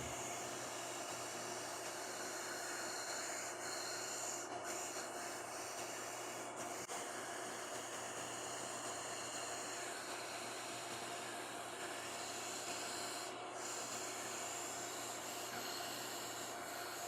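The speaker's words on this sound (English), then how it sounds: "my vertical belt sander" A vertical belt sander grinds steadily against wood, giving a continuous, even rushing whir that stays unchanged throughout with no voices.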